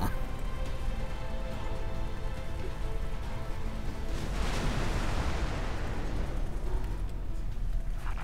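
A space battle explosion in the game X4 Foundations, a sustained rumbling roar with crackling debris that swells midway, loud and continuous.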